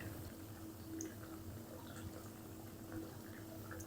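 Leftover rice, semolina and potato snacks fry in hot oil with a steady, even bubbling sizzle that runs unbroken from start to finish, with no talking.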